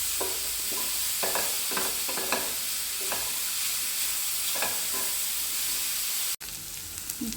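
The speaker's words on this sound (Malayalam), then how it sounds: "അത് നല്ല ഇനി ചട്ടിയിലിട്ട് നല്ല ഫ്രൈ ആക്കുക." Boiled chicken pieces, seasoned with salt and turmeric, fry in a pan with cabbage and capsicum for shawarma, a constant loud sizzling hiss broken by repeated stirring scrapes, then a sudden cut.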